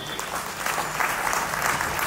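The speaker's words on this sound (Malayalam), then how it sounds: "നമുക്ക് നല്ലൊരു കൈയടി കൊടുക്കാം" An audience at a music academy's annual function gives a round of applause, steady dense clapping from a hall crowd throughout.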